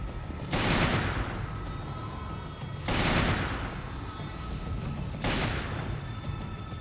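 Magnum revolver blasts in Resident Evil Revelations, three loud, booming single shots spaced a couple of seconds apart, each with a long decaying tail over a constant low game ambience.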